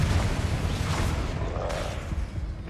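A Confringo spell explodes in Hogwarts Legacy, a dense, loud, rumbling blast of broadband noise that stays heavy for a few seconds.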